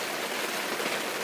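Rain falls steadily at a campsite in Shenandoah National Park, a soft, even hiss of drops on surfaces, continuous and fairly quiet with no voices.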